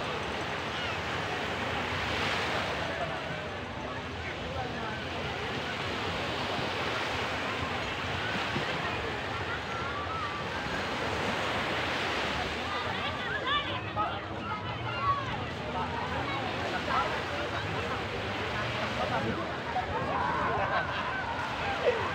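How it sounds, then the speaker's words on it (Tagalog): Steady wash of calm sea waves and surf at Matabungkay beach with wind rushing across the microphone, continuous throughout, with faint voices blended in underneath. "Medyo kalmada ang dagat ngayon."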